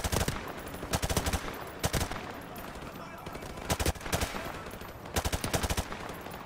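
Bursts of M4 assault rifle fire in Modern Warfare Remastered, rapid automatic volleys in short clusters separated by brief pauses, loud and close, with faint game ambience between them.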